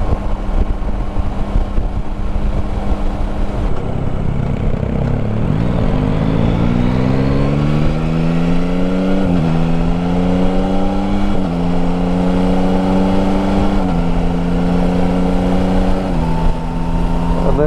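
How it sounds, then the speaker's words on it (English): A Yamaha Tracer 9 GT motorcycle in sixth gear on the road gives a loud, continuous engine and induction drone with wind rush; its pitch climbs smoothly and then holds, with slight dips and surges. "And there's that induction on 6th gear."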